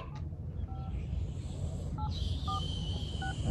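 Four short two-tone keypad beeps from a telephone being dialed, spaced unevenly and fairly clear over a steady low rumble of background noise, with no talking.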